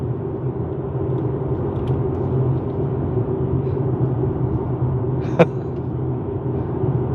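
A 2025 Acura TLX Type S driving through canyon corners, heard from inside the cabin as a steady low engine and road rumble with one brief sharp click partway through.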